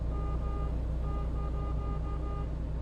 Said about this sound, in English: Does this sound like the honk of a big rig truck?